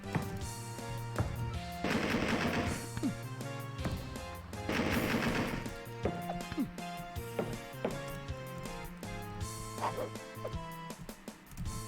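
Thompson gun fire in Alone in the Dark 2, heard as loud, dense bursts of automatic shots in two main volleys with scattered single cracks, all layered over game music and effects.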